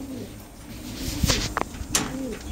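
Pigeons coo in soft, low throaty bursts at close range, with a couple of brief sharp knocks and rustles over faint background noise.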